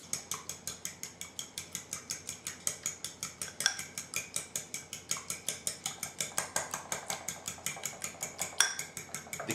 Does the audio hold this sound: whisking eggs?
yes